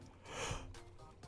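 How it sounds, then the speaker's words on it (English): A person yawning, one long drawn-out breathy inhale and exhale close to the microphone, soft and airy, followed by quieter breathing. "Yawning like crazy over here."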